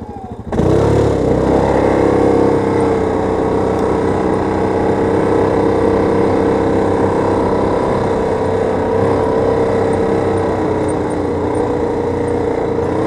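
A loud, steady motorcycle engine drones continuously at close range while riding, its pitch holding fairly constant throughout as if cruising.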